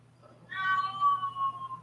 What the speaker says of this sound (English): we can definitely hear kitty